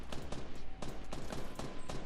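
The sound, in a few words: gunfire in video game Fortnite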